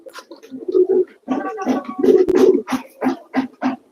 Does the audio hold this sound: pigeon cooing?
yes